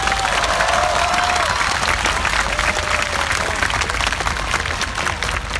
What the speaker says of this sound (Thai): ปรบมือให้น้องๆมัธยมหน่อยครับ